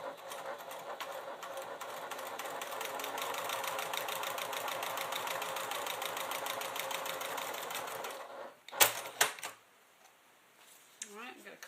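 A sewing machine stitches a clutch with Tex 45 thread in a steady, fast rhythmic chatter for about eight seconds, then stops with a few clicks and handling sounds.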